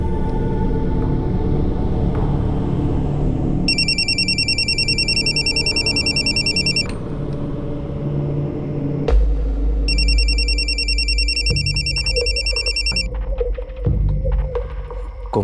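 A telephone rings unanswered in two separate bursts of electronic ringing over a low hum and background noise, with no one picking up.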